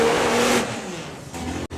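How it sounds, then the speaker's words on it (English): A Top Fuel drag bike and a funny bike, both UK machines, roar together at a drag race, a loud sustained blast of engine noise that thins out and cuts off sharply near the end. "Top Fuel bike versus funny bike again."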